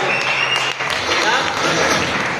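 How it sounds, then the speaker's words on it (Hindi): Audience at an open business meeting in Safidon claps loudly and continuously while a voice speaks over the applause. "साहब जबरदस्त तालियां"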